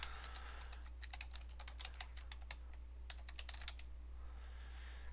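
Someone types a username and password on a computer keyboard in a rapid run of light clicking keystrokes, quiet and close, over a low steady hum, with no talking.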